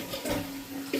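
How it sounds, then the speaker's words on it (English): A residential toilet flushing during a home inspection, a steady close rush of swirling water with a low tonal hum running beneath, loud and continuous with no talking. "Toilets were flushing good today."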